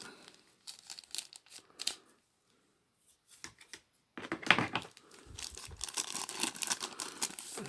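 Close crinkling of a plastic bag being cut open with scissors, with snips and rustles, a short quiet pause, then louder crackling handling of plastic.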